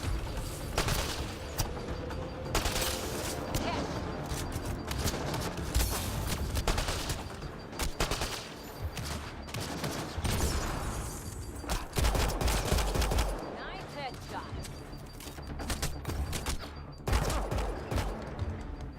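Enemy gunfire in the sci-fi shooter Mass Effect Andromeda: dense, continuous volleys of rapid shots and bursts, loud and close, with occasional heavier booms throughout the firefight.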